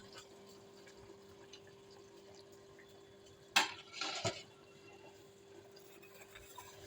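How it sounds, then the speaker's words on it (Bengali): A lid is lifted off a pan of malai kofta curry simmering on a low flame: one sharp metallic clank, then a brief rattling, clattering burst over a quiet background hum. "এবার আমি ঢাকাটা খুলে নেব"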